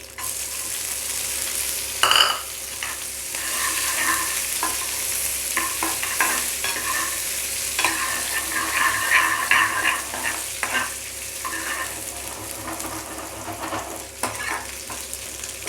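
Dried red chillies and crushed garlic fry in hot oil with a continuous close sizzle, punctuated by scattered clinks and scrapes of stirring throughout.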